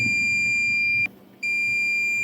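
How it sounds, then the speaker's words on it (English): A multimeter in continuity mode beeps as its probes touch ground points on a mobile phone board: a loud, close, steady electronic tone that cuts out for a brief moment before sounding again. "So we are getting a beep"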